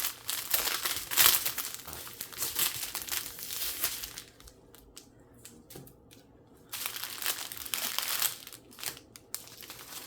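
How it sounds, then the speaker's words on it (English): Tape is peeled off a canvas painting kit and crumpled up nearby, making crinkly, crackling bursts with a quieter pause partway through. "Get the rest of the tape off of here."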